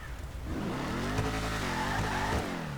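Vapid Dominator ASP muscle car in a video game, its exhaust droning loud and steady as the engine note climbs and dips slightly while driving, with no voices over it.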